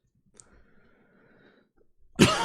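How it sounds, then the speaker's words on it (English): A single harsh cough bursts out near the end after a quiet stretch with faint background hum. "Apologies for the coughing."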